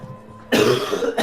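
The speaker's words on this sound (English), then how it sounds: "He coughs because it's so smoky." A single sharp cough bursts out after a quiet moment, followed by a brief second burst, close and fairly loud, from someone coughing in a smoky room.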